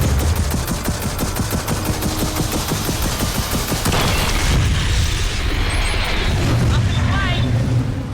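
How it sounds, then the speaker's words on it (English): Loud Gears of War 4 combat, a rapid rattle of heavy fire giving way to booming blasts and rushing explosions as rockets launch and strike, with a voice talking over the chaos. "Rockets are away"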